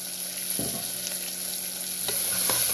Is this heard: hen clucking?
no